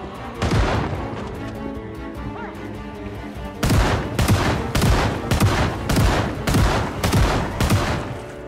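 Gunfire in the zombie survival game Project Zomboid: a spaced series of loud, sharp shots with booming tails, a few scattered early then a steady run of heavy blasts roughly every half second, with no voices.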